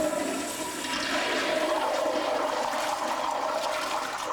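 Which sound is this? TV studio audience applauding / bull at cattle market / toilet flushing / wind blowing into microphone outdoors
toilet flushing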